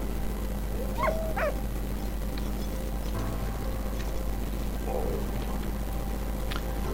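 A dog in the video game Valiant Hearts: The Great War gives a couple of short yips and whimpers early on, faint and brief, over a steady low game hum with distant scattered noises.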